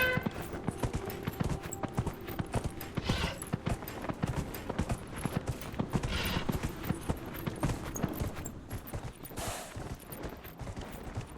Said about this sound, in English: here is the running of the horse. Here is the sprinting of the horse.